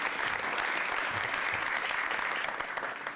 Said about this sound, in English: I want to ask a round of applause for everyone who was part of putting together this plan